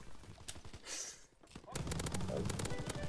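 Rapid automatic gunfire in Call of Duty WW2 zombies mode crackles in dense rhythmic bursts, with a brief lull before the shooting resumes heavier and louder.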